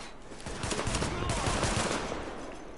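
Dense, continuous gunfire from The Division video game, rapid overlapping shots and bursts filling the scene at steady loudness for the whole stretch.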